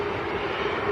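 A KLM Boeing 737 airliner at Manchester Airport, heard as a steady, fairly loud jet engine roar with a constant tonal hum, sustained without a break.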